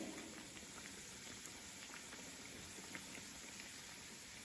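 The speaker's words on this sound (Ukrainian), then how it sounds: "Викладаємо для просмажування. У нас гарно розігрітий фритюр." Doughnuts deep-frying in well-heated oil in a fryer, a steady dense sizzle and crackle with scattered small pops, close and continuous, no talking.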